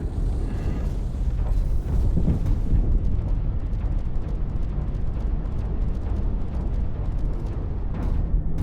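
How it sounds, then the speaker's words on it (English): Explosions rumble through a VR mech combat game, a loud, continuous low roar of blasts with sharper bursts near the start and a few later cracks, no voices over it. "There's lots of exploding things happening."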